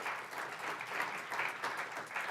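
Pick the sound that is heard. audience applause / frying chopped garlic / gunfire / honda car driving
audience applause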